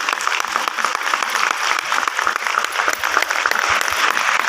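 Dense audience applause at a conference hall, steady and fairly loud throughout, many hands clapping together with no voices standing out.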